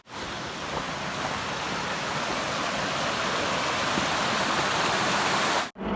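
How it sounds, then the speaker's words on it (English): A river rushes steadily along a hiking trail toward Pinto Lake, a dense, loud, unbroken roar of flowing water close by, with no voices, cutting off abruptly at the end. "we hit our first river"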